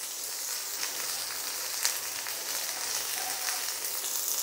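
Asafoetida dropped into hot oil for a tempering for snake gourd and moong dal kootu gives a faint, steady crackling sizzle with a few small pops.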